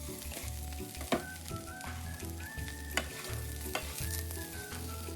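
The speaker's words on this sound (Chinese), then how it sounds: "接着将沥干水分的香米加入一起炒香" Drained Indian basmati rice stir-fried in a pan for bamboo shoot rice: a low, steady sizzle with repeated sharp spatula scrapes and knocks against the pan, fairly quiet and close, no voices.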